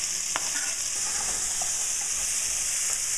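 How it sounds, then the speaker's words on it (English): Onion sizzling in a hot pan, a steady bright frying hiss with a few soft crackles and stirring sounds, close and without talk. "Great, listen to the sizzle, smells great."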